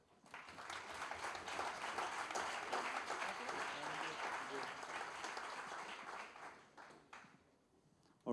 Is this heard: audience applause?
yes